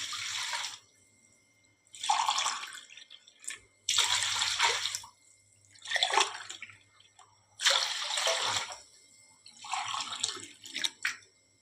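Water poured into a cooking pot for boiling rice grits, heard as six separate splashing pours of a few seconds each with short quiet gaps between them, close and fairly loud, no speech.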